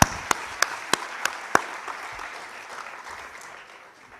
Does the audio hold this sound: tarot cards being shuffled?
no